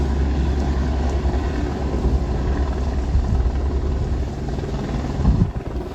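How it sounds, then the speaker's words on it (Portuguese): A police helicopter passes overhead, its steady low rotor rumble and broadband roar filling the whole stretch at a fairly loud, even level with no talking. "Deixa eu só esperar o helicóptero da polícia sair aqui."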